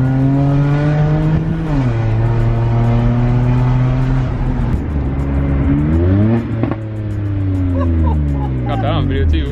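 A BMW 135i with N54 engine, catless downpipes and a muffler delete revving hard through a pull, loud continuous engine tone climbing and dropping in pitch, with a shift and a final rising sweep.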